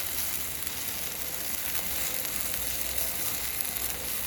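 Onions sizzle on a hot, well-seasoned griddle with a steady, dense crackling hiss that carries on without a break, and no one speaks over it.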